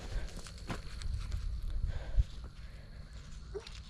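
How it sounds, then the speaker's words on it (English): A horse's hooves clip-clop over a driveway at night in a faint, uneven patter at a distance, beneath a low background rumble. "there's people out here in the driveway with a horse."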